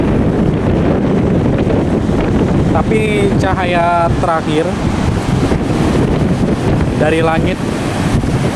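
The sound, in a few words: wind blowing on the beach at Parangtritis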